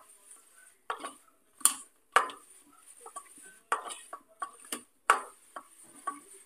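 A spoon mixes rice flour and gram flour batter in a bowl, clinking and scraping against the sides in irregular, close, sharp taps with quieter stirring between.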